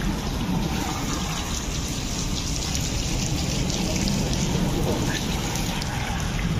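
Dense hail pelting down in a hailstorm near Dera Ghazi Khan, a loud, steady rattling patter that fills the whole stretch without letup, with faint voices now and then underneath.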